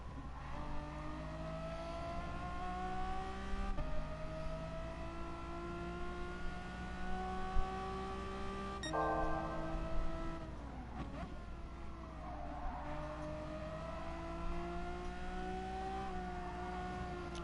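A race car in Gran Turismo Sport accelerates steadily, its engine whine climbing through gears as rising harmonic tones across a lap, loud and continuous with no talk.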